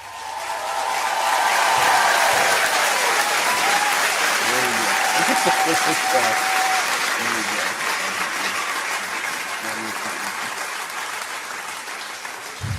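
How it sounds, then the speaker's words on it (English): Loud applause from a crowd fills the air, sustained clapping that slowly tapers, with voices and cheers mixed in. "how about one more round of applause, y'all?"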